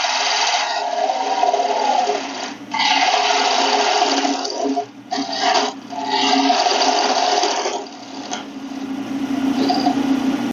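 A woodturning gouge slicing into a small wooden penny plate or saucer spinning on a lathe: a loud, continuous rasping cut with a steady hum. It drops out briefly several times as the tool lifts, then resumes close up.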